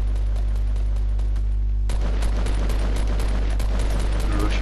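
Repeated shotgun blasts in Fortnite gameplay crack out in a steady string over a constant low hum, getting denser and louder partway through, with no talking.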